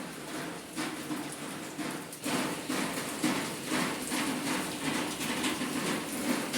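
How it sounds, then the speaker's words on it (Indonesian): Steady morning rain falls in a continuous wash of patter, with heavier drops and a few dull thumps on a nearby surface standing out now and then; no voices. "Ini sudah hujan sejak subuh ya."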